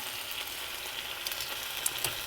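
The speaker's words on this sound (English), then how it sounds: "You're just searing the outside of it." Chicken pieces searing in a hot frying pan, a faint, steady sizzle with a few small crackles and pops, heard alone.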